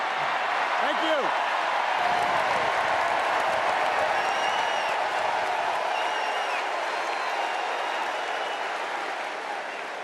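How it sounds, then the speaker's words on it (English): Sustained crowd applause fills a large hall at the Democratic National Convention, loud and continuous with scattered cheers, then slowly tapering toward the end. "the Democratic crowd here loved hearing from Coach Steve Kerr."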